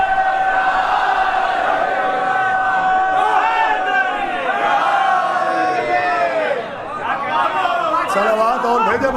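A large crowd at a Shia majlis during the last week of mourning days chants religious slogans together, loud, sustained rising calls from many voices filling the hall without pause.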